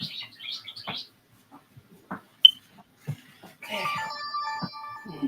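A mobile phone goes off: a single sharp electronic chirp, then a melodic, layered ringtone swells for the last second or so, loud and close over a quiet room.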